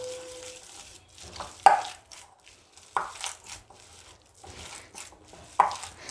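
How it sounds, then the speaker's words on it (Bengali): Dahi vada batter with ginger paste and cumin being kneaded and mixed by hand in a bowl, soft squishing and stirring with three sharper knocks against the bowl, close and fairly quiet. "এখন আমি এটাকে খুব ভালো করে মেখে নেব"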